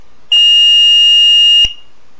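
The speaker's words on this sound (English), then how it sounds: "You'll know it's in programming mode when it beeps like that and then stops." A Motorola Minitor V pager entering programming mode gives one loud, steady high-pitched tone lasting over a second, then cuts off abruptly with a click, alone and close.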